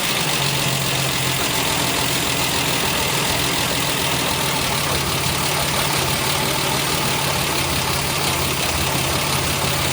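Engine of a 1968 MGC with SU HS6 carburetors, idling at a steady, even, moderately loud rumble with no talk over it.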